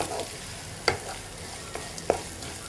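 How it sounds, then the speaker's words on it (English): Sliced onions sauté with whole cinnamon, cardamom and cloves while lamb chops are prepared. A steady close sizzle runs throughout, with a couple of sharp spatula clicks. "Now we're going to saute the onions nicely."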